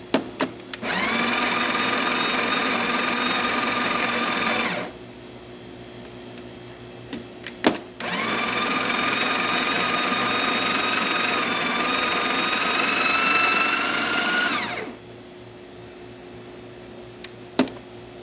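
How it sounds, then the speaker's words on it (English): A Breville Barista Express built-in coffee grinder whirs in two long, steady bursts of about four and seven seconds, separated by a short pause, close and fairly loud with a high motor whine. "I put it to 4 while the grinder was running"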